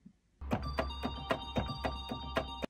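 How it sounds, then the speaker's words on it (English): High bells in a music production, a run of about nine bright, evenly spaced bell strikes with ringing tones over a low sustained bass note, loud and alone. "Some high bells."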